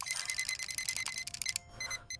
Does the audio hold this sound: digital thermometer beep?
yes